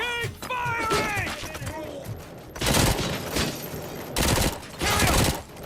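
Gunfire in the Robocop video game comes in loud rattling automatic bursts, two or three long volleys separated by short pauses, close and heavy, following a stretch of voices and electronic tones.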